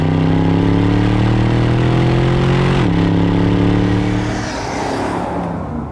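An Aston Martin DBX SUV engine in Sport Plus mode roars loudly and steadily, its pitch climbing, then dropping sharply at a gear change before building again and fading into a rushing drive-by wash.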